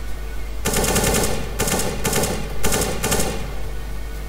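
Loud bursts of automatic gunfire in the video game Counter-Strike: Global Offensive, several separate volleys in quick succession with short pauses between them.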